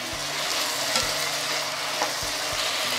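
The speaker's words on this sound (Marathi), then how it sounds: "आता आपण गॅस मोठा करून साधारण 1-2 मिनिट आपण हे परतून घेऊ" Everyday Indian vegetables are stir-fried in a pan over high heat, giving a steady loud sizzle with a few spatula scrapes and stirring knocks, no voice over it.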